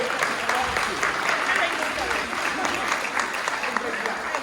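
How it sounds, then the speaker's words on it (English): A crowd applauds steadily, a dense wash of clapping that holds at an even level throughout, with some voices mixed in. "Give you a round of applause"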